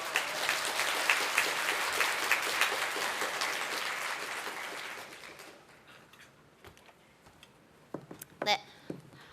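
Audience applause at a PyCon Korea 2019 lightning talk session fills the first half, dense and lively, then fades out, leaving quiet room noise with a few scattered claps and knocks.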